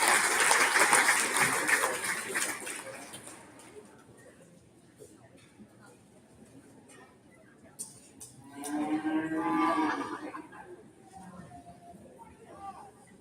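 An audience at a cattle show breaks into a short burst of applause partway through, fading after a couple of seconds, with chatter and speech before and after it.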